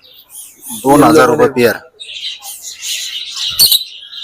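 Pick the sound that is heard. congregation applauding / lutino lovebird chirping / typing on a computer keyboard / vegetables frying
lutino lovebird chirping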